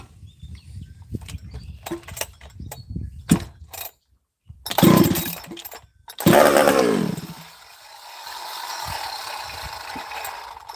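A Husqvarna 371xp chainsaw on choke is pull-started in two rough bursts, then catches and keeps running at a steady, moderate idle close by, after quiet handling clicks.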